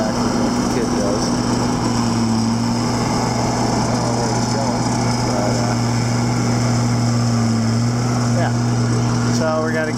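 A skid steer loader's engine runs steadily nearby on a muddy farm site, a constant droning hum with a strong low tone that holds unchanged throughout.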